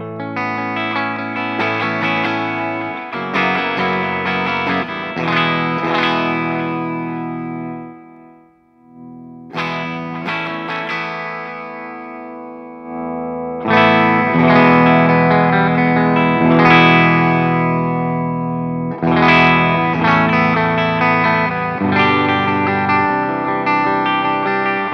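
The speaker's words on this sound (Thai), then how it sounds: "เดี๋ยวผมลองเปิดดีเลย์ดูนะครับ" An electric guitar plays through a JOYO banTamP Meteor mini amp head with delay on, ringing chords and notes trailing repeating echoes over sustained phrases with a brief pause midway, no talking.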